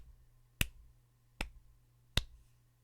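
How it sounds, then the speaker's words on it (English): Three faint, crisp snap-like hits spaced about a second apart, heard alone against a quiet background, like a very soft clap. "they gave a very quiet clap"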